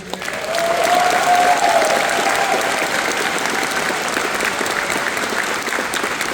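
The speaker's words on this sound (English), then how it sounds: "Can we get a round of applause for them, please?" A convention audience at a closing ceremony breaks into sustained applause, a full, even wash of clapping from a large crowd with a brief cheer near the start.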